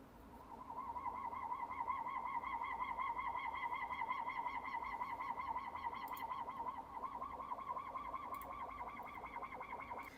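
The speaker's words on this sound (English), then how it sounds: "I found this kind of creepy soprano alien sounding preset on another Roland synth, the JX3P" A creepy, soprano-like alien lead from a Roland JX-3P synth preset holds one steady, wavering note with pronounced vibrato, moderately quiet and alone throughout.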